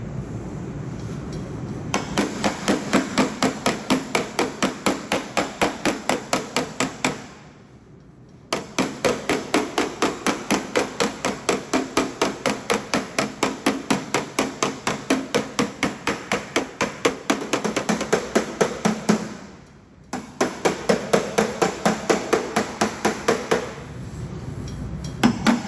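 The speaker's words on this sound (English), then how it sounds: "Let's do some whacking." Rapid, steady hammer blows on the steel door skin of a 1969 Corvair, ringing metallic strikes in long runs broken by two brief pauses, close and loud.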